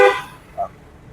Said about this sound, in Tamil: ஹார்ன் அடி.